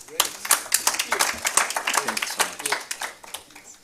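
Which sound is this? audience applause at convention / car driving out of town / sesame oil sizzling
audience applause at convention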